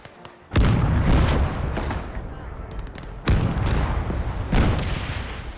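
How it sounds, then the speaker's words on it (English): Mortar teams fire in the World War II strategy game Gates of Hell, three heavy booming blasts spaced a second or two apart, each with a long rumbling decay, loud and near, with no talk over them. "We are going to allow the mortar teams to begin."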